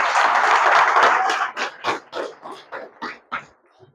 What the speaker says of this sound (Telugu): సో వీళ్ళకి ఒక్కసారి గట్టిగా క్లాప్స్ ఇద్దాం